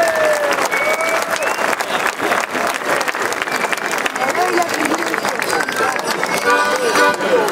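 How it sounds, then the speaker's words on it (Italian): Sustained, dense applause fills the hall for the Brazzallos folk group of Fonni, Sardinia, a steady wash of many hands with voices mixed in throughout. "Applauso in questo caso per il gruppo folk Brazzallos di Fonni."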